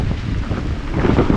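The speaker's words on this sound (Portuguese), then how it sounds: "Agora neste momento 20 nós de vento, mas ele chega às rajadas com 25" Strong cyclone wind roars across a sailboat in heavy rain, about 20 knots gusting to 25, a steady, loud, buffeting rush that fills the brief moment with no voices.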